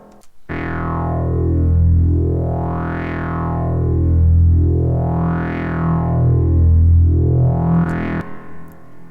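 A sustained Behringer K2 mk2 synthesizer tone whose bright filter sweeps slowly up and down about four times, with a thick, washy, reverberant tail.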